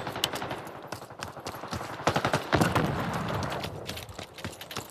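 Rapid bursts of automatic gunfire from Call of Duty: Black Ops 6, played on an Asus ROG Ally X handheld, come in uneven volleys that swell and drop over a few seconds, with no speech.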